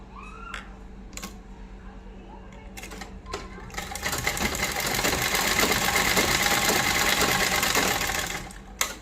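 A sewing machine runs in a sustained burst of stitching for several seconds, preceded by a few short clicks and handling sounds, then stops near the end.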